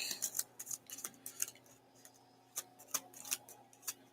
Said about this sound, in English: Shuffling up the deck.